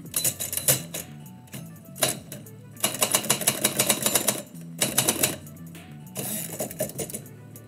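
A manual typewriter clacks away at a live poetry session, typing a wedding-themed poem in fast loud bursts of keystrokes broken by short pauses and the ding and slam of the carriage return, close and alone.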